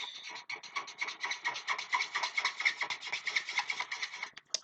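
Rapid scratchy strokes of a pencil or marker colouring in a drawing of a Jordan sneaker on paper, a dense rhythmic rubbing close to the microphone with brief pauses between bursts.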